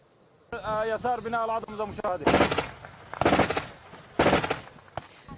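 A voice speaks briefly, followed by three loud bursts of rapid automatic gunfire on the outskirts of Aleppo, with pauses between them, nearby and sharp.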